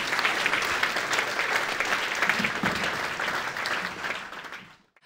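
An audience at a ceremonial key handover for a renovated technical school in Villach applauds to welcome the education director, a full sustained round of clapping that fades out at the end.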